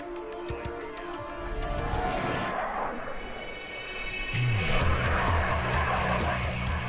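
A test aircraft touches down on the Lakehurst runway, its engine roaring steadily and loud throughout, with a low thud and rumble near touchdown partway through.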